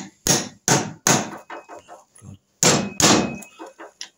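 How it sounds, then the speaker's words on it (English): Hammer taps on a Norton Commando engine part during a rebuild while removing the points: a few sharp metallic blows in two clusters, close and loud, with faint handling noises between them. "So hopefully now if I tap it"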